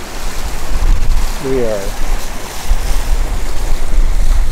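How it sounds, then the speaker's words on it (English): A sailboat motoring under both engines through open-water waves, pushing hard with heavy surf wash and wind rumble throughout; a voice speaks briefly partway through. "We're pushing it with both engines running because we're trying to time the tide and daylight"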